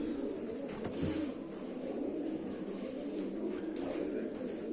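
Pigeons in a coop coo steadily in a low continuous murmur, several birds close together, with faint chirps and rustling over it.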